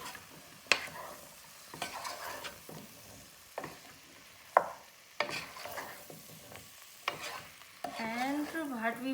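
Aloo gobi of potatoes and cauliflower being stirred in a frying pan, with repeated scraping strokes and soft clacks over a steady sizzle that grows louder near the end.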